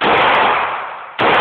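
Two loud gunshots at an outdoor gun range sound close by, each a sharp blast with a long fading tail, the second following about a second after the first.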